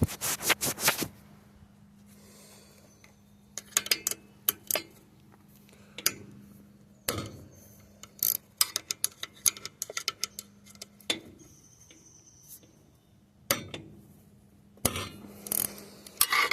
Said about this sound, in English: now we're going to pull the rod bolts